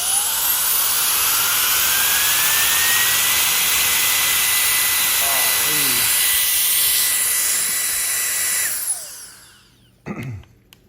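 An ALFFAA electric air duster, a three-speed jet dry blower, ramps up into a loud, steady, close rushing whine with a rising tone. It roars for about nine seconds, then cuts off, followed by a brief handling clatter.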